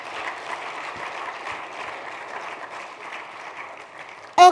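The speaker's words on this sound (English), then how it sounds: "Can we give him another round of applause?" An audience at a youth gathering on small-business opportunities applauds steadily at moderate volume for several seconds, ending with a sudden loud bump.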